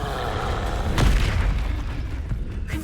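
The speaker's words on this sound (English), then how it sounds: "Incendio!" Incendio fire spell cast in Hogwarts Legacy: a deep whooshing boom swells near the middle over a rumbling combat backdrop, then fades.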